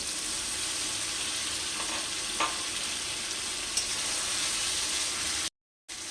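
Chicken pieces frying in oil with cooked-down spice paste give a steady, close sizzle with a few faint stirring clicks, then a brief cut to silence near the end.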